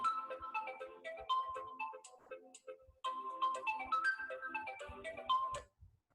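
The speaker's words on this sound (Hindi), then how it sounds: "ये जो फोन आ रहा है ना" A phone ringtone plays a bright, repeating melodic tune in two bursts with a short gap between them, clear and fairly close.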